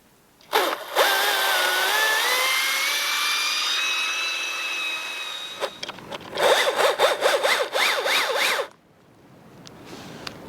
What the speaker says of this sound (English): So now I will start making my back cut